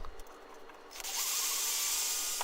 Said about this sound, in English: Now we'll drill on through